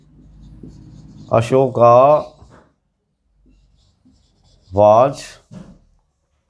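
A teacher writes on a board during a grammar lesson, and faint scratchy strokes fill the pauses around short bursts of clear nearby speech.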